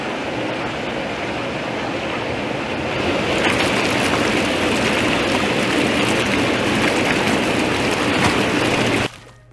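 Coast Spas hot tub pumps run in priming mode, giving a loud, steady rushing roar of churning water. It swells slightly a few seconds in, holds, then cuts off abruptly near the end, with no talking.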